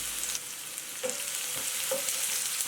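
Finely chopped onions fry in hot refined oil in a pan, giving a steady close sizzle with a few soft scraping touches, no voices over it.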